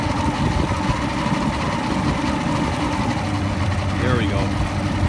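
Boat outboard motor running steadily on quick start, a continuous low engine drone that eases and calms toward the end as the quick start disengages, heard up close.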